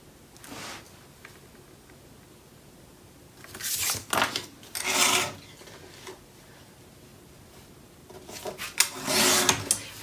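Paper trimmed down for a Graphic 45 Christmas craft project: bursts of sliding, rasping cuts close by, one near the start, several in the middle and another toward the end, separated by quiet stretches, with no voice.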